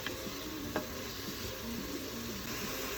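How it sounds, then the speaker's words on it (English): Onions sizzle steadily in a hot pan while being stirred, a continuous close frying hiss with a faint scrape of the spoon and one brief knock. "Just gonna keep stirring that, making sure it's not burning"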